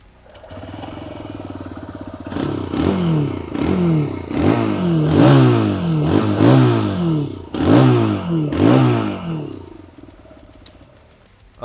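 A TVS Raider 125 motorcycle exhaust is revved again and again, roughly eight close, raspy blips in a steady rhythm before settling back to idle.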